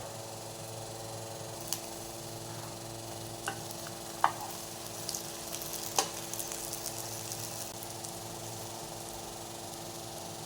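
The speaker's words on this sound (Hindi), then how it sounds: "घी लगा के इसको पलट कर मज़ीद पका लेंगे ताकि इसका अच्छा सा गोल्डन कलर आ जाए।" An egg paratha brushed with ghee fries in a pan, giving a soft steady sizzle with a few faint ticks and scrapes, close and quiet with no talk.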